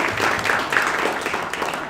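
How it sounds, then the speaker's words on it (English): Golf clap from meeting attendees seated at tables in a community advisory meeting, a dense, steady patter of light clapping from several people that lasts throughout. "Golf clap for table 6."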